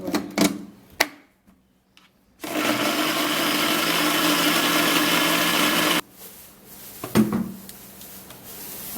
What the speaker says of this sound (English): So I'm gonna be blending it with the same blender.